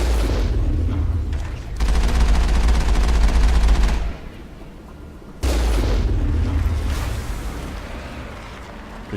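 Rapid automatic gunfire bursts in the Mass Effect video game, two long loud volleys separated by a short pause, with booming low rumble.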